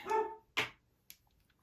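A pet dog gives one short bark followed by a brief yelp, close and fairly quiet, in an indoor room with no talking.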